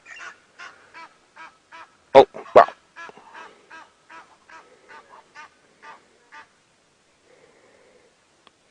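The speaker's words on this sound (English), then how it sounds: "An Egyptian goose. Another one is around." An Egyptian goose on a morning safari drive calls in a series of rhythmic, hoarse honks, with two louder blasts partway through, then trails off into softer calls; a person briefly exclaims in the background.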